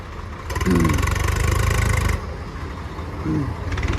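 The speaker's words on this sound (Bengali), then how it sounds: "স্টার্ট করা হয়েছে স্বরাজ 855 FE।" Swaraj 855 FE tractor engine starting and running nearby, a loud rumbling burst of revving followed by a lower steady chug, then a second short rise in engine noise.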